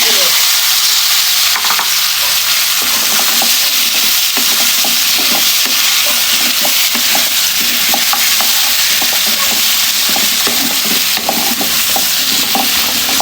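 Chopped vegetables frying for Bengali latka khichuri, a loud, steady sizzle with continual clinks and scrapes of stirring in the pan, close up and with no voices.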